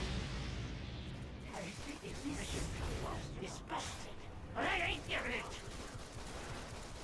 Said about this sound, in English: one of the fun bits about dual pistols is going full auto